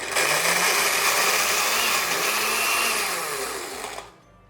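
A blender whirs loudly and steadily for about four seconds, its motor roaring with a harsh buzzing tone before switching off abruptly, while blending ingredients for a red berry cheesecake.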